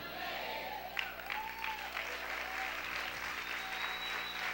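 Church congregation applauding during a Spanish-language sermon, a continuous crowd of clapping hands with a few faint whistles or cheers rising above it and a low steady hum underneath.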